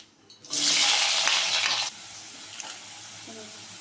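Cut potatoes slid into hot oil in a home kitchen, setting off a sudden loud burst of sizzling hiss that lasts over a second, then settles to a softer steady frying bubble with a few faint clinks.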